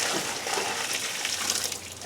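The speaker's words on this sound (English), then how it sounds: "I just dumped the water that was in there" Hot water poured out of a pot onto the ground, a short continuous splashing gush that holds steady for about two seconds with no voices.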